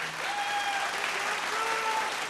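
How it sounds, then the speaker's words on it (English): A crowd applauds steadily, a dense wash of clapping with a few whistles rising above it, sustained throughout. "A round of applause, please, for our host venue partner"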